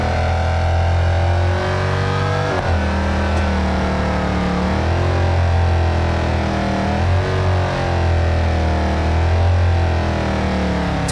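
A Mopar car's engine in BeamNG Drive revs and accelerates through repeated gear shifts, loud and continuous for about eleven seconds with no talking.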